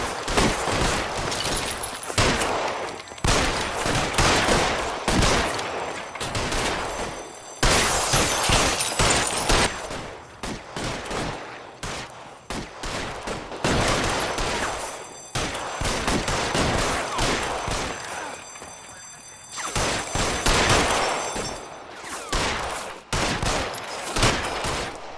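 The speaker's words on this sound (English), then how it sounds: "Oh, une fusillade." Heavy gunfire in a shootout in the video game L.A. Noire, loud rapid bursts and volleys of shots continuing densely throughout with brief lulls.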